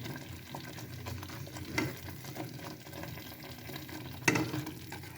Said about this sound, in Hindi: तो आप लोग देखे हैं कि हमारा खीर अभी पक रहा है, बन रहा है।